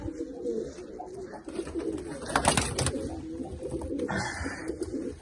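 Racing pigeons cooing inside a coop, with steady low throaty coos and occasional wing flutters and rustles, close by, with no talking.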